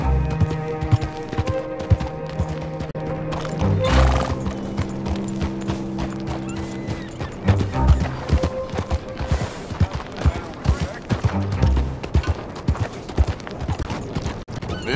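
Horse hooves clip-clopping on a town street in Red Dead Redemption 2, a steady rhythmic trot layered over game music and ambient noise, with occasional sharp thuds and a possible faint whinny.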